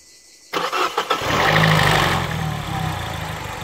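A Peugeot 207 RC with a 1.6 THP engine starts up after an oil change: a short starter crank, then the engine catches and settles into a steady close idle.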